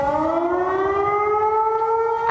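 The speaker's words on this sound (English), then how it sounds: "As the sirens went off and the alert went out about an armed and dangerous person on or near campus" A campus civil defense siren wails steadily during a lockdown at UNC, a loud sustained tone rising slowly in pitch, with no voices over it.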